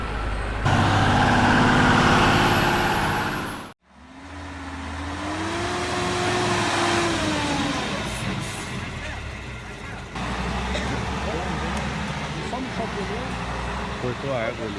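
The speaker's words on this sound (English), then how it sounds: "This is a Volvo FH16540 tractor with two trailers loaded with large logs." A Volvo FH16540 truck hauling two trailers loaded with large logs rumbles loudly nearby, engine tone rising and falling with a hissing burst early on, while voices talk over it.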